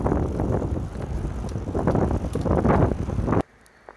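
A road bicycle rolls along outdoors on an easy morning ride, with rushing wind and tyre roar across the microphone that stop abruptly near the end, leaving quiet.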